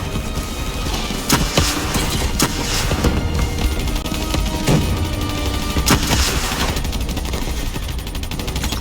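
Gunfire fills a battle in the video game Call of Duty Black Ops III: continuous automatic fire with sharp individual shots and booms scattered over a dense, loud background of combat noise.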